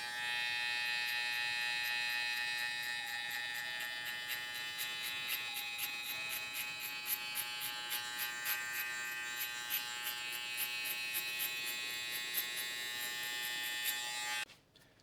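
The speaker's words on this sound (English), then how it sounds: "I'm going to go ahead and open my clipper" Electric hair clipper buzzing close and continuously during a mid drop fade haircut, a steady high whine with slight dips in pitch, cutting off abruptly near the end.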